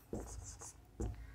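Pen or chalk writing by hand on a board or paper during a physics lesson, two short scratchy strokes close by, with no talk over them.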